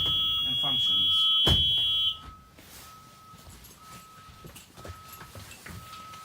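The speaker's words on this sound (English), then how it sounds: "Emergency exit window, properly labeled. It alarms and it functions." A school bus emergency exit window alarm blares as a loud, steady high-pitched buzzer tone for about two seconds, then cuts off, leaving quieter rustling and a faint intermittent tone while a person talks.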